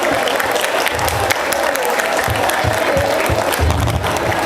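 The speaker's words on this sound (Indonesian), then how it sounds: "kita berikan tepuk tangan yang meriah." Loud, steady applause from a crowd of students and staff at an outdoor Monday school flag ceremony with local police, sustained clapping filling the whole stretch with faint crowd noise beneath.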